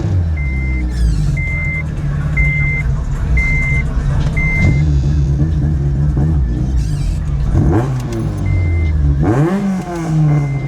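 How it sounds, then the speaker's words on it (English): At a car meet, a nearby car engine revs and fires in loud bursts over a constant rumble of motor traffic, with a repeated reversing beep early on and rising revs near the end. "I don't know if y'all can hear this car firing like crazy"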